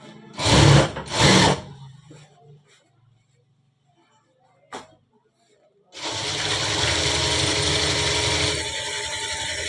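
A sewing machine double-stitches a full-sleeve shirt, running steadily and loudly through the second half after a few short bursts and a quiet pause.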